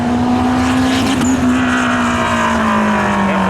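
Drag racing cars, one of them a Toyota Corolla, roar loudly past at a spectator drag strip, a steady engine drone holding a single sustained pitch as they cross the finish line.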